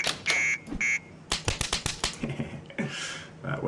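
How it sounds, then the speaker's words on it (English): An alarm set off in the stealth game Gunpoint gives two short buzzing electronic blares, then a fast run of sharp clicks and a longer hissing tone, all fairly quiet. "I think I will set off this alarm."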